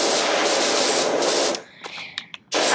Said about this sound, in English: Let's just spray the whole thing down.